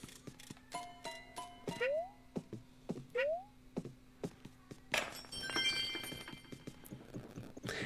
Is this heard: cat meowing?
yes